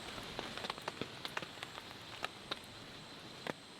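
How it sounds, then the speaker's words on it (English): Light rain patters on leaves and surfaces in a dark Costa Rica forest at night, soft scattered drops ticking over a faint steady hiss, quiet and close with no voices. "Rain is starting to come down a little bit."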